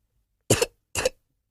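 A young girl gives two short, harsh coughs, close and clear, separated by a brief pause in silence.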